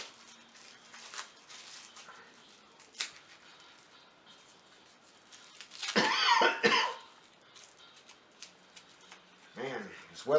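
A few muffled coughs sound close by amid quiet rustling and handling noises, with no talking.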